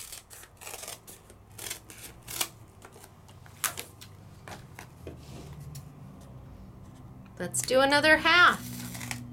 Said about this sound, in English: This is foam that I just cut off.